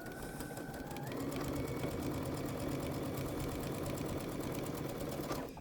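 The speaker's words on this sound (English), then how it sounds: "So I'm going to just sew on that line." A sewing machine stitches the joined binding strips of a large quilt in a steady, fast, close mechanical whir that runs continuously for a few seconds, with no voices.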